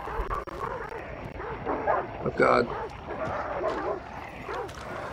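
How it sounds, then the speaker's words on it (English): Dogs barking and yelping in the video game Hunt: Showdown, several sharp barks and whimpers scattered across a few seconds under a player's talk, with one louder cluster near the middle. "Oh, they're pissed off at the dogs."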